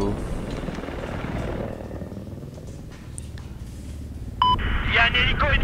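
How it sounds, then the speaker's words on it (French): An enemy helicopter in the video game Battlefield 4 churns as a steady low rotor rumble throughout, with beeping game alerts and a bright burst of effects toward the end. "Il y a un hélico ennemi au sud de votre position."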